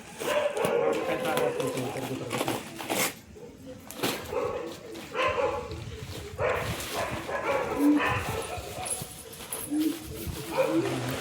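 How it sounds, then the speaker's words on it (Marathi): Dogs bark and yip now and then in the background while people talk close by, with occasional whimpers. "कुत्रे मुकायला आलेत बघ कुत्रे"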